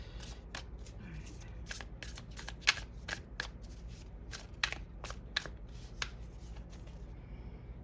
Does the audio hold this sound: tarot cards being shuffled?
yes